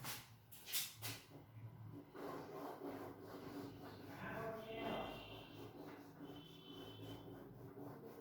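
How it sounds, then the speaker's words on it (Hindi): A small piece of yellow colour is rubbed across paper for fluid art, producing a soft, continuous scratchy scraping that rises and falls in close, quiet strokes. "दूसरा छोटा येलो लेकर रगड़ देते हैं"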